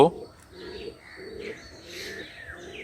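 Soft, repeated pigeon coos roll out in a steady low rhythm, with a brief chirp and faint background noise.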